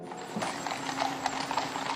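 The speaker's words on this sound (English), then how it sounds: "The carriage of the King's Troop Royal Horse Artillery that will transport her coffin there, pulled by 7 black horses along the route" Hooves of horses drawing the King's Troop Royal Horse Artillery gun carriage clip-clop steadily at a ceremonial procession rehearsal, a dense run of close, even hoof strikes with no voices.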